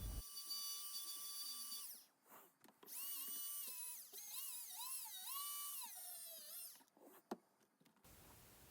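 A rotary power carving tool with a diamond burr works pine wood. Its high whine rises and falls in pitch as the load changes, with brief pauses and a sharp tap near the end.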